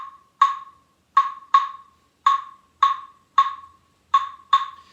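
A full clave pattern struck on a Cuban clave, eight crisp, woody clicks in a syncopated, uneven rhythm, each decaying quickly, heard close with no voices.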